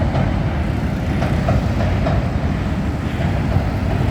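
A Chicago elevated L train passes along the tracks downtown near Union Station, giving a loud, steady rumble with faint clickety-clack rhythm from the wheels, close by and continuous.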